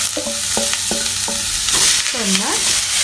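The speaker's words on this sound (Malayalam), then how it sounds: "ഒന്ന് ഇളക്കി കൊടുക്കുക നന്നായിട്ട്. എണ്ണയും കടുകും നമ്മുടെ പാവയ്ക്കയും തമ്മിൽ നന്നായിട്ട് മിക്സ് ആവുന്ന രീതിയിൽ നമ്മളതൊന്ന് ഇളക്കി കൊടുക്കുക." A spoon stirs sliced bitter gourd into sizzling mustard seeds and oil in a pan for a Kerala thoran, with a loud, steady frying hiss and several short scraping strokes, close up and without talk.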